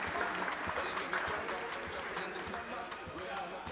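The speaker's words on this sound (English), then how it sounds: "A big round of applause, ladies and gentlemen," Applause from the crowd at a boxing weigh-in in Zambia comes as dense, steady clapping throughout, with voices mixed into the noise.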